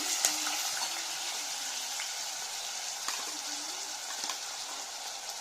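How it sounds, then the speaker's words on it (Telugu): Green chillies frying in hot oil in a pan, a steady, soft sizzle with faint crackles and small pops throughout, no voices. "ఆయిల్ బాగా వేడైన తర్వాత పచ్చిమిరపకాయలు వేగిన తర్వాత"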